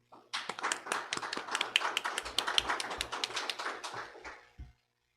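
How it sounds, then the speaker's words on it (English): A small group at a school board meeting gives a short, brisk round of applause that lasts a few seconds and then stops cleanly, with no talk over it. "we could give her a round of applause as if she's here"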